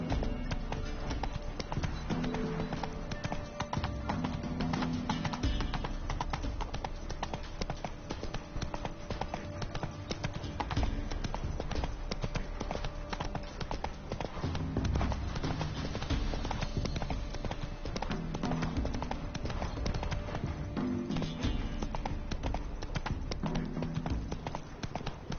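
Horse hooves gallop in a steady, fast clip-clop rhythm while riding in The Witcher 3 video game, loud and continuous over a dense game soundscape of music and ambience.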